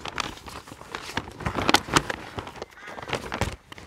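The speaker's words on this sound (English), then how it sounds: "Now I'm going to be eaten by carrion crows." Carrion crows caw repeatedly near the coastal path between Torcross and Dartmouth, harsh calls scattered through the stretch over a busy outdoor backdrop of other bird and wind noise.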